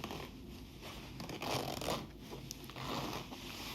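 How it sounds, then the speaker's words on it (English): A clothing zipper on a vintage thrift-shop garment is pulled open and closed several times, a close, crisp rasping that swells and fades in short strokes with no talking. "I check the zips all the time to make sure that I can open that and close that as smooth"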